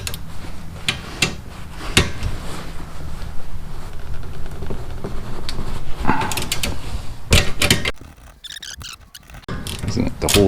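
A socket wrench works the 14 mm bolts on the rear brake caliper of a 2003 Honda Accord, giving repeated close ratcheting clicks and metallic knocks, with brief pauses and sharp handling taps.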